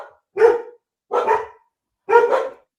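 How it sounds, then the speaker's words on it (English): Dogs barking inside a house: three loud, sharp barks spaced about a second apart, close by, with quiet between them and no other sounds. "Dogs barking in the house."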